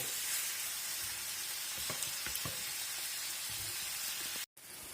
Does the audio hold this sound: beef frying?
yes